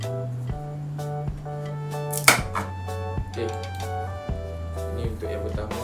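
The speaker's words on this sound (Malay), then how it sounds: "Kita potong ikut ketinggian yang kita nak." Sharp chopping cuts as an orchid support stick is trimmed to height, several distinct knocks spaced about a second apart, with one louder crack near the middle, over a steady background hum.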